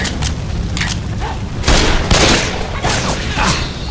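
Gunfire in the zombie shooter Left 4 Dead 2, loud overlapping bursts of shots and booms crowding the whole stretch, dense and continuous with heavier blasts midway.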